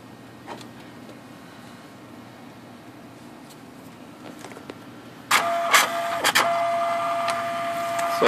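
A Gen 2 Universal IGT ticket printer powers up after a firmware update, giving a few faint clicks before a loud whirring, buzzing cycle starts partway through, with brief mechanical interruptions and a steady tone.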